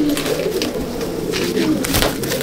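An Abluk Madrasi pigeon coos steadily while being held in the hand, a continuous low throaty burbling that stays close and fairly loud throughout, with faint handling noise around it.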